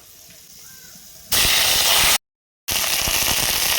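Ginger paste hits hot oil spiced with garam masala and black cumin in a kadai, setting off a sudden loud, broad hiss that cuts out briefly and then resumes at full strength.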